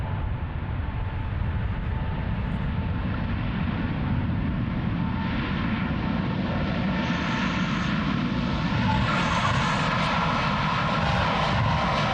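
GE90 engines on a jet airliner roar during a runway 36L departure at Amsterdam Schiphol, a loud, sustained rumbling whine that climbs steadily in pitch as the aircraft passes nearby.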